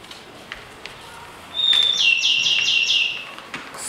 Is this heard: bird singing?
yes